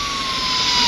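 Police siren in Bus Simulator India played on a phone, a brief steady electronic wail held loud and alone for under a second.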